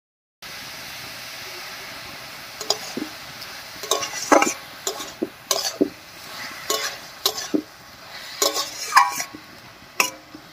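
Banana stem stir-frying with spice paste and water in a pan, soft hissing sizzle under repeated scraping and clanking of a spatula against the pot, intermittent and close, with a voice speaking briefly in places.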